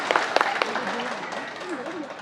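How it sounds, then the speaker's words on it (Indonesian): Applause rises from the audience at a classical Balinese Arja theatre performance, loose clapping that mixes with crowd noise and speech. "Tepuk tangannya dulu dong."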